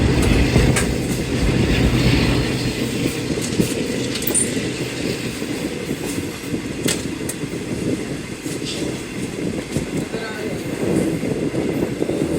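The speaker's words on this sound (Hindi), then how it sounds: "थ्रॉटल इसीलिए डाउन किया है कि आगे स्टेशन पे शायद पीएलसी है।" Green Line train running on rails: a continuous rumbling roll with rhythmic clicks of wheels over track joints, steady and close from inside, while someone talks over it.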